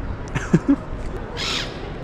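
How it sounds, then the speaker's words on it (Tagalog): A few short bird calls and squawks close by as birds crowd around, with a soft rushing sound afterward, like wings or wind, in Amsterdam, Netherlands. "Napalibutan ako ng ibon."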